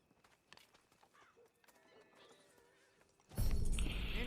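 Horse in Red Dead Redemption 2 whinnying and clopping its hooves, faint and sparse at first, then a loud, dense burst of sound near the end.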